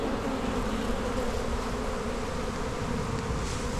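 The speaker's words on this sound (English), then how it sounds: "there's a bumblebee which is attempted to go in" A continuous, dense buzz of bees at a honey bee hive entrance where a bumblebee tries to get in. The hum sounds close and steady, with no talking over it.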